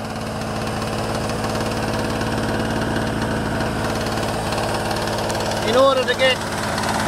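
A generator engine runs at a steady idle with constant low vibration, close and continuous, while someone talks over it.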